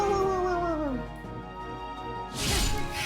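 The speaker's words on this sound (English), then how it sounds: "Oh, there go the dogs." Dogs howling outside a window late at night, a long falling howl up front, with barking and yipping breaking out louder toward the end.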